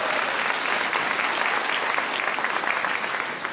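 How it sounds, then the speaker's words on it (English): An audience at a new students' presentation day bursts into steady, dense applause, many hands clapping together close by, sustained and even throughout with no pause. "Oh, people are clapping you already."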